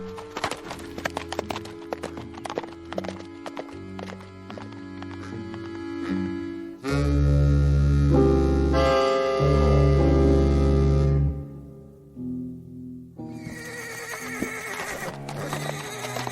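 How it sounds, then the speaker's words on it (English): Horse hooves clop irregularly, then a loud, long whinny rises over low rumbling; more hoof and snorting sounds follow near the end. "Easy, horse, easy."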